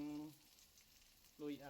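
Curry leaves and chili sizzle in a pan while salted-egg seabass is cooked, a faint, steady hiss between short stretches of speech at the start and end.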